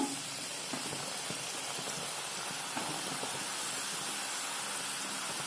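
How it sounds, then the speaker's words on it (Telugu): Jantikalu dough, a fried savoury snack, goes into hot oil and sets off a steady, dense sizzling hiss that continues evenly throughout, close and fairly loud with no talking. "నేను ఇప్పుడు ఈ జంతికలు చుట్టుకున్నాను కదా, అవి నూనెలో వేస్తాను."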